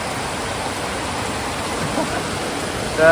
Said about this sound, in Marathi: आणि हे बघा भर दिवाळी पावसाचं आगमन झालेलं आहे